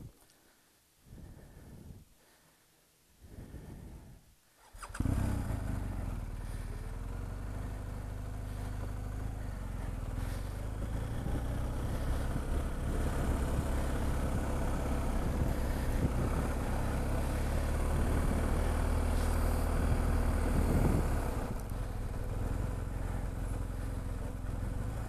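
A motorcycle engine runs steadily in a parking lot during wheelie practice, starting after a few seconds of quieter sounds and holding a loud, continuous mid-pitched drone with slight swells in revs.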